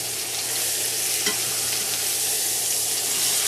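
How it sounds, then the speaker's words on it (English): Steak sizzles in a hot cast iron pan over medium heat, a dense, even crackling hiss of frying that runs steadily throughout, close and loud with no talking. "The steak, cooking up beautifully."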